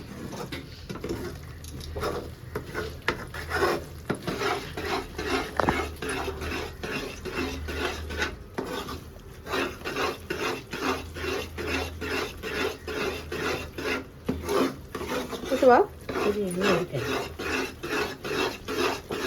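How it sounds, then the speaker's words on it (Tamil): Thick Mysore pak batter is stirred in a pan at home, a steady scraping, rasping rhythm of spoon on metal repeating close by for the whole stretch, with brief pauses. "ஆனா கிண்டிட்டு இருக்காங்க மைசூர் பாக்கு"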